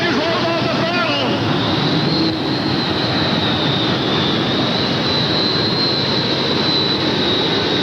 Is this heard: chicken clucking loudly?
no